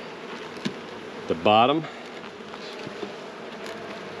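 Honeybees buzzing at an opened hive frame make a constant low drone, while someone speaks briefly over it and a few soft knocks sound nearby.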